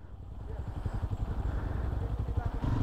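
A motorcycle engine rumbles nearby at Didaddungan White Beach in Palanan, Isabela, with a low, pulsing idle that grows slightly louder toward the end, with some voices in the mix.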